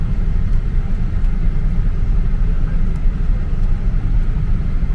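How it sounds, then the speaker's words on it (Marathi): Cars and other vehicles stream along a wide eight-lane highway after a jam, producing a continuous low rumble and road roar with a steady, dense wash of passing traffic and no talk. "आता जरा इथं ओपन झालं आहे हायवे, ते गाड्या जरा फास्ट मूव्ह करायला पहिल्यापेक्षा"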